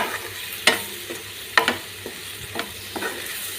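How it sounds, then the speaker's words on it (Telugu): Spoon stirring chili powder into banana curry in a pan: a steady low sizzle of frying runs throughout, punctuated by several sharp scraping clicks spaced irregularly, close and moderately loud, with no talking. "ఒక టీ స్పూన్ అంత కారం వేసుకున్నామండి చక్కగా మిక్స్ చేసుకున్నాం"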